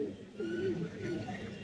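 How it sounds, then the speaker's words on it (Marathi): Pigeons coo near a temple, a soft low warbling call rising and falling over about a second, close by against a faint background hum. "कबूतर बघायला आवडतात आम्हाला."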